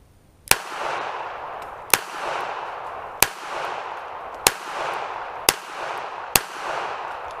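Six sharp pistol shots from a Taurus PT 738 .380 fired at a steady pace about a second apart, each loud crack trailing a short outdoor echo, with no talking.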